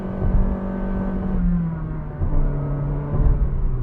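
A 2021 Honda City RS with a CVT accelerates at full throttle in sport mode, giving a steady droning engine note that climbs smoothly without gear shifts, heard from inside the cabin with road rumble beneath.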